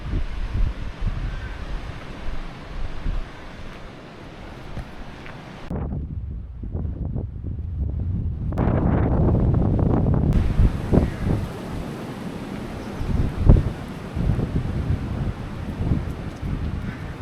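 Wind gusts buffet the microphone while walking outdoors near a field in Devon, a rough, rumbling roar that drops out briefly partway through and then returns stronger, with no one speaking.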